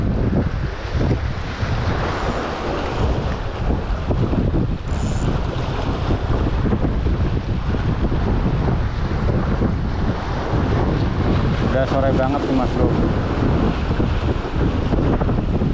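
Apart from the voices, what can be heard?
strong wind blowing while fishing at a dam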